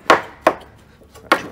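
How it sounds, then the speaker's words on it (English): Three sharp knife chops of mac tuna meat being minced fine with a sushi knife on a board, close and loud with uneven gaps between strikes. "Basically chopping that fine like mince."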